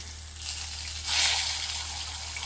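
Fish frying in hot oil gives a steady, close sizzle that swells louder around the middle and then settles into a continuous crackle over a low hum.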